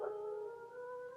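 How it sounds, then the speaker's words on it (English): A dog howls in a radio drama, a single drawn-out, wavering tonal howl of about a second, fairly faint and heard alone. "Seems to be a very friendly pooch."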